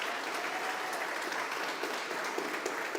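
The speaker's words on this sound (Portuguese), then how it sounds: "pode aplaudir a palavra do Senhor?" A church congregation applauds together in a steady, dense burst of clapping that fills the space evenly, moderately loud, with no speech over it.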